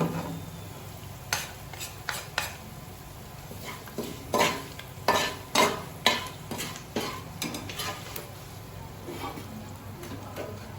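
Curry leaves frying in oil for a puffed-rice mixture, a low background sizzle broken by a run of loud, rhythmic metal scrapes and clinks of a spoon stirring in the pan, close up with no talk.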